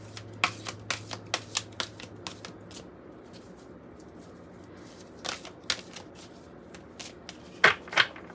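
A deck of tarot cards is shuffled by hand up close, giving a run of sharp riffling snaps and quick flutters. After a quieter stretch, a few louder slaps and riffles follow.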